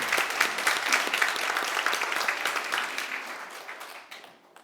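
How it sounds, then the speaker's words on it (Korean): A church congregation applauding during a Sunday worship service, dense clapping that holds steady and then thins and fades out toward the end. "최고로 크게 영광의 박수를 돌리겠습니다"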